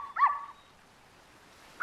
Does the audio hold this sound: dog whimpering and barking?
yes